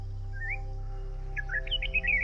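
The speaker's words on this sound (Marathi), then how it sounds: "yellow brood Bulbul" Yellow-browed bulbul calling at a forest waterhole in Kolhapur: a short rising whistled note, then a quick run of bright, chirpy notes that come close together, clear above a low, steady background hum.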